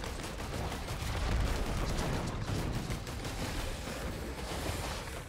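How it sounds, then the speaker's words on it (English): Proton cannon firing in the video game Risk of Rain 2, a dense sustained barrage of crackling blasts and booming energy fire, loud and continuous throughout with no talking. "Proton cannon."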